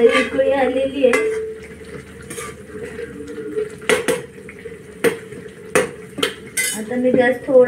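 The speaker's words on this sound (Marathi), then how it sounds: "आता मी गॅस थोडासा मीडियम ठेवून परतून शिजवून घेते." A metal spoon scrapes and clanks repeatedly against a pan while dry bay prawns and brinjal are stirred and sautéed over medium heat, sharp irregular knocks over a soft bubbling sizzle.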